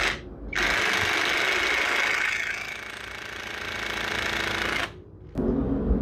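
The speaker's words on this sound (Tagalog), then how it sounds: "Palo lang ng palo yung impact driver, pero mahigpit pa rin yung pagkakapit ng screw" An impact driver hammers a screw into a wall, a dense rapid rattling that runs for about five seconds, pauses briefly, then resumes, loud and close.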